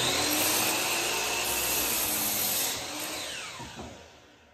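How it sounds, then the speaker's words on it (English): A power saw cuts through old barn wood boards nearby, giving a loud continuous whining rasp that holds steady and then tapers off toward the end, with no talk over it. "Now he's just cutting a bunch of the boards and piecing it together."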